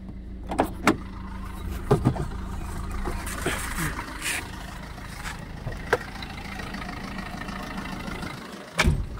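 A vehicle engine idles steadily with a low hum under scattered clicks and door-like knocks, during a check of why the battery is draining, just before the engine is switched off.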